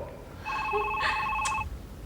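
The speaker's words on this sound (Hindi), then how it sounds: "एक तो इस फोन ने पागल कर दिया।" A telephone rings with a steady electronic trilling tone, one continuous ring lasting about a second, fairly close and clear over a quiet room background.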